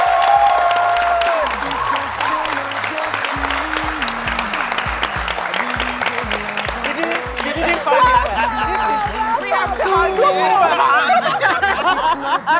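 An audience claps steadily for a musician being introduced at an event, sustained applause throughout with some crowd chatter and laughter mixed in.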